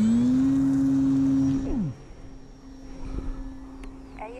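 Model F4F Wildcat airplane taking off: a steady, loud engine drone with a rising whine that suddenly drops in pitch and fades into the distance as it flies off, leaving a fainter hum.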